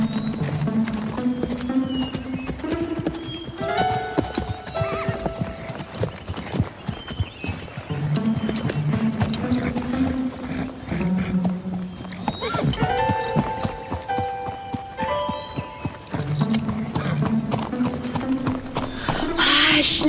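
A pony trotting carries a rider, its hooves clip-clopping in a brisk, steady rhythm close by. Occasional snorts break in, and voices talk over parts of it.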